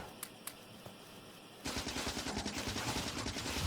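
Video game machine gun fire, a few sparse shots at first, then a sudden sustained rapid burst of automatic fire that rattles on to the end at moderate volume.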